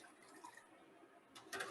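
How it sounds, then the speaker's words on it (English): Citric acid solution is poured into milk while making quick mozzarella at home, a faint, brief splash of liquid near the end of an otherwise quiet moment. "and I'm going to pour it into my milk"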